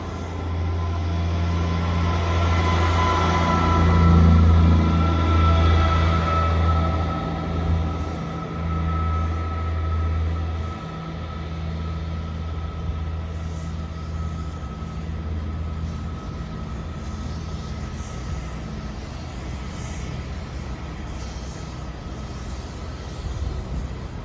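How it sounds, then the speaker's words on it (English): The 14:23 ScotRail service from Dundee to Glasgow Queen Street pulls out of Stirling station, its deep engine rumble loud at first, then easing off and fading to a steady distant hum. "And departing out now is the 1423 ScotRail service from Dundee to Glasgow Queen Street."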